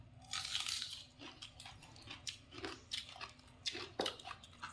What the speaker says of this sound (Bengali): পেঁয়াজ দিয়ে কামড়ে খেতে সুন্দর লাগে।